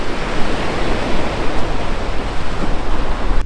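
Sea waves break between rocky reefs at a coastal sea-fishing spot, making a loud, continuous rushing roar mixed with wind buffeting the microphone.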